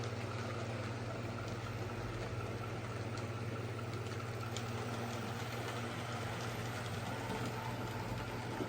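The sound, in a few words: locomotive Dover running tender first, hauling Southern coaches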